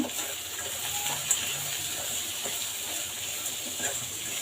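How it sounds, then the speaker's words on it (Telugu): Chana dal and fresh coconut curry with salt, chili powder and spices being stirred in a pan, giving faint, steady scraping and a light sizzle with occasional soft clicks of the spoon, no talking. "అలాగే కారం ఇప్పుడు ఒకసారి బాగా కలిపేసుకుందాము"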